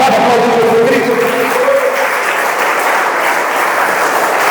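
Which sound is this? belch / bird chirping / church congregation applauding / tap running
church congregation applauding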